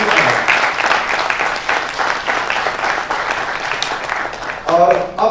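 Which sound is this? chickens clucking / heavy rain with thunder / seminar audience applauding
seminar audience applauding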